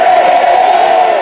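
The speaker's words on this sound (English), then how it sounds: "They were ginning up the crowd to a frenzy." A political rally crowd in January 2021, worked into a frenzy, gives off a loud, sustained roar of shouting and cheering that holds steady through the short moment.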